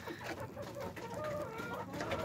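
Chickens clucking steadily and close by, several birds overlapping in a busy, continuous farmyard chatter.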